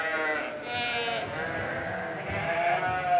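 A flock of some 300 ewes on a family farm near Briançon bleats at feeding time, many overlapping calls forming a dense, continuous chorus close by, with no talk over it.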